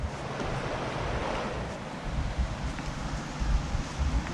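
Steady rushing river water beside a campsite in Sok Valley, Skardu, a broad continuous wash with gusty wind noise swelling toward the end, no voices.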